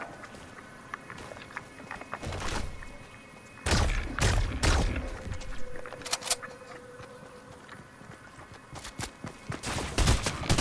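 Bursts of gunfire from Fortnite weapons crack out in several separate volleys, loud and close, with quieter game ambience and small clicks between them.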